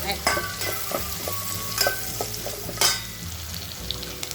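Chopped onions sauté in a pan after ginger and garlic for vegetable pasta, with steady sizzling and frying and occasional stirring scrapes and clatters, close and moderately loud, no talking.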